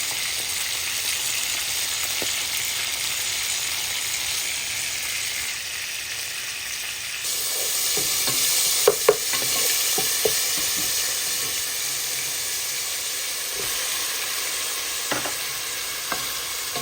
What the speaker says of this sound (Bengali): সুন্দর করে ভেজে নিচ্ছি